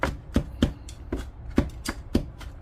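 A knife chops garlic on a cutting board in quick, sharp taps, about eight close, crisp strikes in an uneven rhythm.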